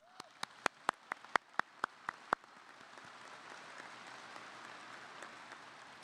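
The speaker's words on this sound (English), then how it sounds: "Let's give them a round of applause." A crowd at a 2023 high school graduation ceremony applauds, starting with a few sharp, separate claps nearby before swelling into a softer, more distant, continuous patter of many hands.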